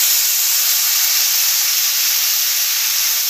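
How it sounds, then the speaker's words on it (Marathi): Washed rice roasting in a pan for kheer gives off a continuous, even hiss throughout, loud and close, with no stirring strokes standing out and no talk. "आता आपण हे धुतलेलं तांदूळ ह्यामध्ये भाजून घेऊया"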